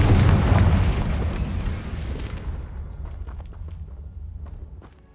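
Confringo explosive spell going off in a Harry Potter video game, a loud booming blast that rumbles and slowly fades, followed by soft scattered footsteps and clicks.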